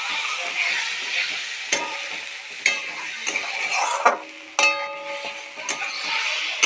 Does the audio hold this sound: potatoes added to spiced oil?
yes